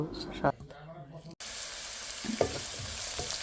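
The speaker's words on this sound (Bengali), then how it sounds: "কড়াইতে তেল দিয়েছে সরিষার তেল এখন পেঁয়াজটা দিয়ে দিলাম" Chopped onion hits hot mustard oil in a wok: a quiet stretch of kitchen clatter, then a sudden loud, steady sizzle that fills the rest of the moment, with a few soft knocks underneath.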